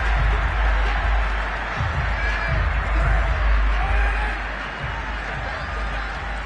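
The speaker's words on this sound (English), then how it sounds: "Plenty of shouts from this crowd as they watch the replay." A stadium crowd in the Madden 22 football game shouts and roars in a steady broad wash, with swelling cheers and occasional thumps, a continuous dense din with no clear voices standing out.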